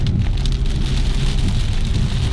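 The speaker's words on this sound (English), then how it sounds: "There's that lovely afternoon thunderstorms." Rain pours steadily during an afternoon thunderstorm, a dense, loud, continuous patter close by with a low rumble underneath and no voices.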